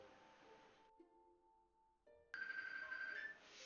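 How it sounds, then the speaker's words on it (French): A phone ringtone plays in a night game scene, a melodic electronic tone with pauses between phrases, fairly quiet at first and then a louder sustained electronic chime toward the end. "j'ai un téléphone qui sonne."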